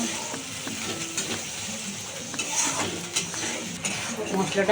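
A cumin spice paste being sautéed in a pan for a jackfruit korma, a close, constant sizzle with spoon scrapes and light clinks of metal against the pan.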